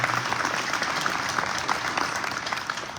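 A crowd at a Philadelphia casino and hotel announcement event applauds a city councilor, with loud, dense clapping that rises and falls slightly and fades toward the end.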